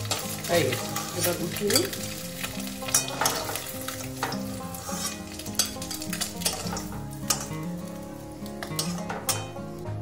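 Broccoli lightly frying in a pan with salt, a steady close sizzle and crackle with occasional stirring scrapes, and a voice speaking briefly.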